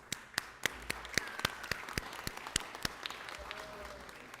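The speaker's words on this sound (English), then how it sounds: "Can we have a big round of applause for them?" City council meeting audience clapping for veterans, sparse distinct claps from a small group in a steady irregular rhythm, moderately loud in a quiet room.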